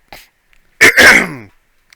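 A single harsh throat-clearing cough, close and loud, with a short breathy sound just before it and silence around it.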